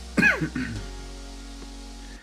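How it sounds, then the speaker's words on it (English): A single throaty cough with a clearing rasp, close and fairly loud, fading into quiet room tone. "Apologize for the cough."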